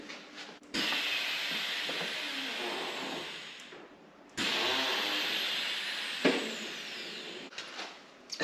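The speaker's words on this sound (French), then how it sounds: "je vais poser la voiture au sol avec les amortisseurs à air" Air hisses out in two long sustained releases as a car's air suspension lowers it to the ground, a steady whooshing vent with a short pause between, up close.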